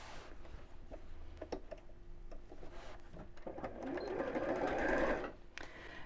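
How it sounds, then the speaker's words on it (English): A sewing machine runs across the top of a large tie tote bag in short stop-start bursts, then a longer steady run that swells louder before cutting off, close up with no talking. "now I'm just going to sew across the top"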